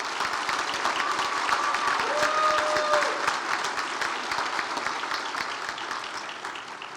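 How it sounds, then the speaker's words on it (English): Audience at an award ceremony applauding, a dense continuous clatter of many hands clapping that stays full and fairly near throughout, slowly thinning toward the end, with no talk over it. "Can we please give this group a round of applause?"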